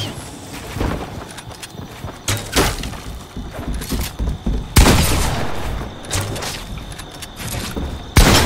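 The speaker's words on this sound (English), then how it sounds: "Oh, they're shooting me." Rapid bursts of video game gunfire crackle during a multiplayer match, sharp volleys and single cracks repeating loudly across the span, with heavier booms near the middle and end.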